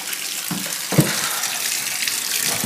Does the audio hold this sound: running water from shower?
yes